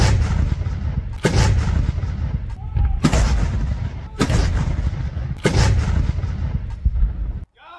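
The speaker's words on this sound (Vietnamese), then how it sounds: "19 loạt đại bác dưới sự điều khiển của các khẩu đội pháo quân đội Australia lần lượt vang" Australian army artillery batteries fire a 19-gun salute on Capitol Hill for a visiting Vietnamese prime minister, heard as five loud booming cannon shots spaced about a second apart, each rolling into a long echo.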